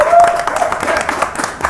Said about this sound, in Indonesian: Tepuk tangan dong untuk Bule dong.